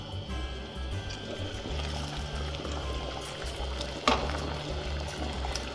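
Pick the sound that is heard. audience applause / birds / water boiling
water boiling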